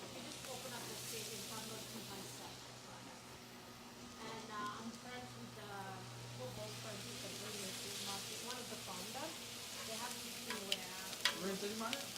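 Food finishing on a hot flat-top grill after smoking, giving a steady broadband sizzle and hiss throughout, with faint stirring and scraping and background talk mixed in.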